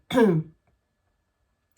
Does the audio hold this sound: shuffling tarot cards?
no